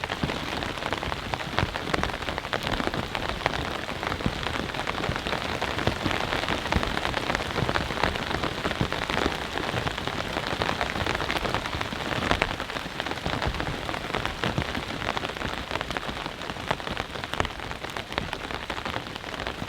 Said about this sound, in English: As you all can see, the rain has returned.